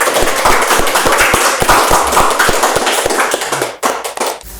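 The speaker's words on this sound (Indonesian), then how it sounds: "Kasih tepuk tangan dong untuk Kak Adi." A few people clapping for a podcast guest, with sharp, close, regular claps at an even rhythm that stop near the end.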